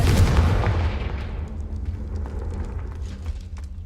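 A Confringo blasting spell goes off in Hogwarts Legacy with a loud, booming explosion at the start, then a rumbling tail that fades into a sustained low roar with scattered crackles.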